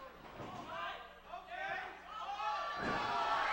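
Crowd noise at a live independent wrestling show, a steady roar of cheering that swells around a match, with a commentator talking over it.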